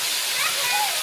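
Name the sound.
waterfall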